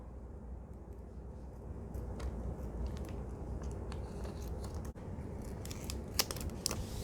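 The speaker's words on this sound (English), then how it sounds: "for the tape, I prefer cutting with my scissors. So I'm coming in and I'm cutting all around." Scissors snipping around tape on a DIY faux vintage enamel number, a series of close, crisp cuts and small crunching snips scattered over several seconds in a quiet room.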